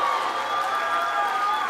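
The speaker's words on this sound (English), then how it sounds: "Give her a round of applause." A large commencement crowd applauds steadily and loudly, a dense wash of clapping that fills the hall without a break.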